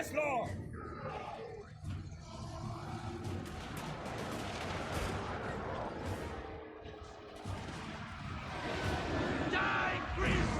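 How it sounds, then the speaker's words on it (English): Cannons booming repeatedly in a Total War: Warhammer 2 battle, with heavy irregular blasts and crashes over a dense wash of battlefield noise and crowd, with unit voices calling out throughout. "Cannons fire!"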